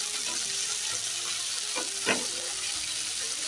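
Chopped tomatoes and boiled soya chunks fry with onion in a pan for a soyabean and katla fish dish: a steady, even sizzle throughout, with a couple of faint stirring scrapes.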